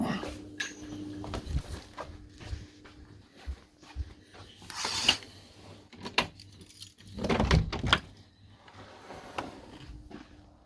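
A bunch of keys jangles close by as someone opens the front door and steps outside, with scattered metallic rattles, clicks and rustles in short bursts, and no voices.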